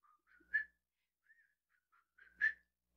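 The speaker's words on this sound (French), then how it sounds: "Je me suis mis à siffler." Someone whistles a short tune in a few clear notes, pausing between phrases, close by and fairly soft, against a silent background.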